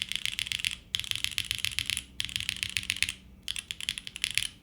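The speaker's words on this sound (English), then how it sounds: "I think this is a solid sounding keyboard." Close, crisp typing on a Freya65 mechanical keyboard comes in rapid bursts of clacky keystrokes, each burst broken by short pauses, with no talking.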